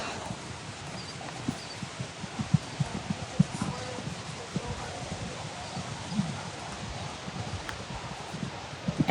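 Horse hooves cantering through a show jumping round, recorded from a rider's helmet camera, give a steady run of thudding clip-clop beats with a few sharper footfalls under a constant rushing wind or motion noise.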